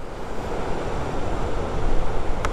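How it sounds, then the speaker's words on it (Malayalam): Surf at Mughsail Beach in Salalah makes a continuous broadband wash, steady and fairly loud, with some wind noise and no voices. "ഇതാണ് ബീച്ച്"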